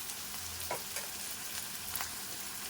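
Masala for yogurt chicken frying in a pan, a steady hissing sizzle throughout with a few soft scrapes of stirring, close and uninterrupted by talk.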